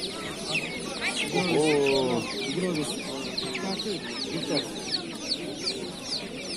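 Chickens and roosters clucking close by, a busy overlapping flock with people talking throughout.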